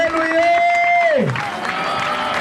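A worship congregation cheers and shouts in acclaim of the name of Jesus, one long rising voice sliding down before the crowd noise swells again, loud and close with clapping underneath.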